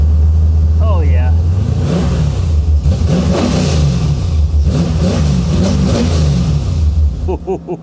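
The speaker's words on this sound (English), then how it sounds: "Tell me this car don't sound sick." A 1985 Chevy Corvette engine revs up close and loud, with a deep, throaty rumble rising and falling through several throttle blips before settling. Voices can be heard talking and exclaiming over it.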